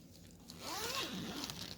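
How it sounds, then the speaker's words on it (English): The zipper on a flannel pillow cover is pulled in one short, faint rasping run lasting about a second, heard up close in a quiet room. "And it zips"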